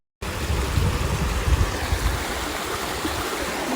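Bridal Veil waterfall in Rapid City pouring steadily, a dense, close, continuous rush of falling water with no voices over it.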